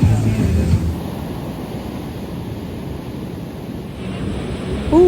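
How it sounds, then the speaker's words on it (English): Ocean surf breaks on the beach at Palomino as a broad, steady wash of waves, heavily mixed with wind buffeting the microphone, and a brief voice is heard at the start. "look, the waves are getting better"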